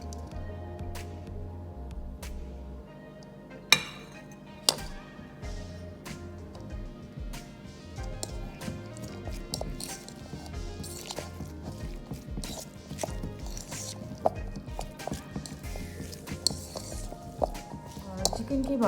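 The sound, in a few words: mixing boiled chicken in a bowl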